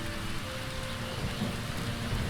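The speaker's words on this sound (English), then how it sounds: "The storm is not letting up" Steady, dense rain pours down in a dark video-game world at dawn, with a low rumble of thunder beneath it, loud and constant throughout with no voices.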